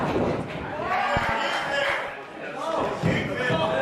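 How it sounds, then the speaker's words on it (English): Wrestler slammed onto the ring mat by a bridging German suplex, a sharp thud around the middle of the clip that rises out of steady crowd noise and ringside commentary. "taking over with that bridging German suplex"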